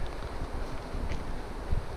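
Steady low rumbling wind buffeting a GoPro microphone on a road-bike descent, with gusty swells and no voices.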